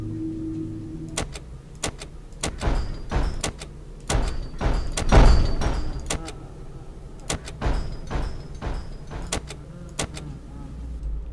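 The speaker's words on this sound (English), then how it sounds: "So, we're gonna close the doors, I think." Office doors slamming shut in Five Nights at Freddy's free-roam fan game, a series of sharp mechanical bangs and clanks in clusters, close and punchy over a quiet hum.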